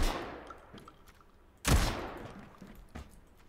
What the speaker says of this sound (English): Check the difference when I hipfire with the shotgun or when I zoom in with the shotgun